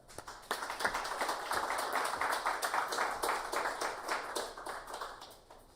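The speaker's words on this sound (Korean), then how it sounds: "따뜻한 박수로 모시겠습니다." A congregation at a Wednesday church service breaks into warm clapping, rising quickly to a sustained patter of many hands and then thinning out at the end.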